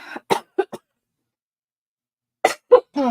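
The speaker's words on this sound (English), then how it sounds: "This cough is driving me crazy." A person coughs in two bursts of short, sharp hacks separated by a second or so of silence, close and fairly loud.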